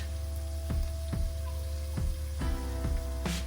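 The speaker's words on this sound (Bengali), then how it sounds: "সমস্ত মশলা দিয়ে একটু মিক্স করে নিচ্ছি ভালো করে" Ground spices, turmeric, Kashmiri chilli powder and salt, sizzle in a hot pan while being mixed, with steady frying hiss broken by repeated scraping stirs of a spoon, close and without talk.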